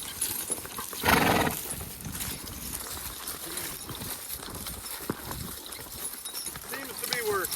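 Three draft horses walk side by side in harness, their hooves clip-clopping in a soft, steady rhythm against a constant background wash, with one louder thump near the start.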